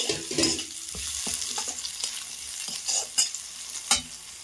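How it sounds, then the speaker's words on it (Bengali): A spatula stirs and fries a low-oil vegetarian breakfast of vermicelli in a pan. The sizzling runs throughout, with several sharp scraping strokes, close and fairly loud, and no talking. "ঢাকা খুলে আবারও নেড়ে দেব।"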